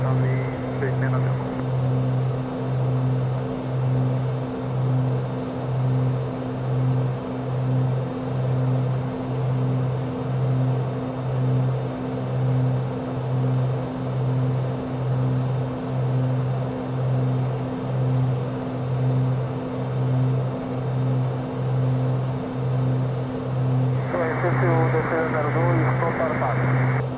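A Beechcraft Debonair 35 engine in MSFS2020 holds a steady, pulsing propeller drone on takeoff, while radio chatter with a tower controller breaks in near the start and the end.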